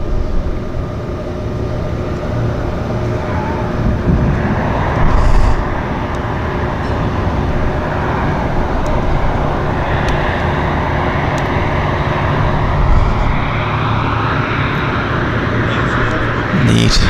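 Floatplane landing at Vancouver Harbour, heard as a steady, broad engine rumble beneath constant waterfront and city background noise, with people talking nearby over it.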